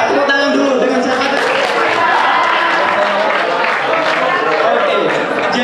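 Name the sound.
audience applause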